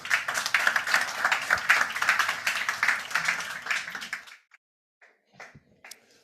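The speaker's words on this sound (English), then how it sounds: "I would also like you to make a big round of applause for Toby Tompkins for Side Food." A crowd applauds steadily for about four seconds, then the clapping stops abruptly, leaving a few faint scattered taps and noises.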